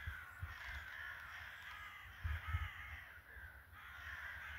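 Crows caw repeatedly outdoors, faint and distant, unseen birds calling over a steady background hush with a few low thumps nearby.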